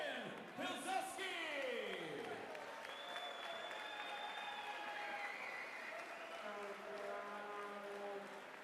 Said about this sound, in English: How about a nice round of applause for the one and only Polish Prince, Ryan Pilsudski!